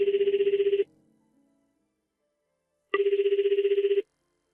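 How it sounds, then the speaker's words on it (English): A telephone rings in two bursts of trilling bell tone, each about a second long, separated by a roughly two-second silence, clear and close with no voices. "I'll just call you on the phone."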